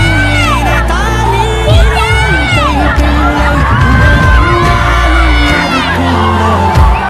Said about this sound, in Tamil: விஜய் என அன்போடு இதயத்தில் இருந்து கூப்பிடும் அலறல் சத்தம்.